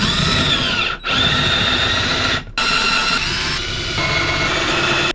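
A power drill grinds continuously and loudly up close, trying to drill out a stuck piece, with two brief pauses where the motor cuts out and restarts, steady whining tone throughout.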